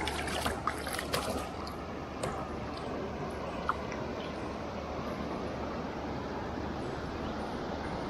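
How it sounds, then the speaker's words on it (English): A river waterfall gives off a steady, broad rush of water close by. The roar stays even throughout, with a few faint knocks near the start. "Waterfall, baby."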